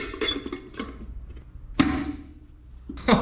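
A sharp metallic pop of a hubcap snapping onto a 1961 Chevrolet wagon wheel stands out above scattered clunks and handling noise, with another snap at the very end.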